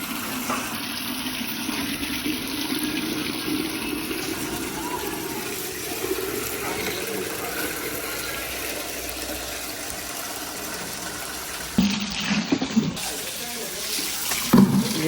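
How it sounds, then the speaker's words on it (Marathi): A bucket fills with borewell water at a dairy farm, a steady running tap-like stream with a few clunks and knocks near the end. "एक बकेट पण भरून ठेवू"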